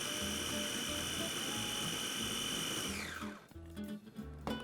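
An electric pasta machine mixes dough with a steady whirring motor hum that drops in pitch as it winds down near the end, followed by irregular knocks.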